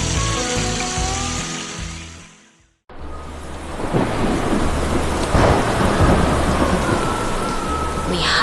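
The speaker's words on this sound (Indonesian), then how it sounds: "Lihatlah badai besar itu." A heavy thunderstorm with steady rain beating down on the ground, loud rumbling thunder rolling through after a brief quiet gap, with no voices.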